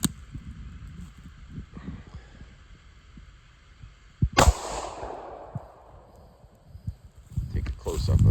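A Taurus Judge Public Defender Poly revolver fires one shot outdoors at a target measured out in yards: a single sharp, loud blast with a ringing decay. Quiet handling noise comes before it and shuffling follows, with no talking.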